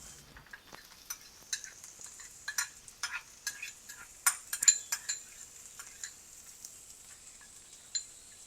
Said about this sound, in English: Time to add them to the mix and stir everything together.